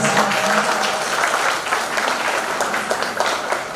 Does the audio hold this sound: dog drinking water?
no